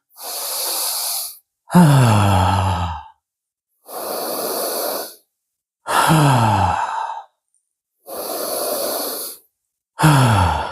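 Forceful breathing during a yoga sun salutation alternates long hissing inhales and deep, sighing exhalations, six close, loud breaths separated by short silences.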